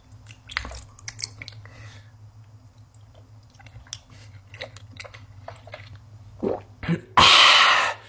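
Wet biting and chewing on a giant water jelly, with squishy clicks and smacks in an irregular rhythm, close up, ending in a loud burst of noise.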